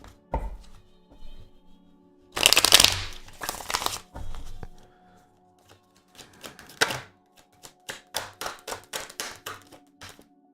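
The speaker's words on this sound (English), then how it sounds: "Let me shuffle ones for you." Tarot cards are shuffled in bursts, first a dense riffling run, then a string of sharp, close taps and flicks as the deck is squared and cut.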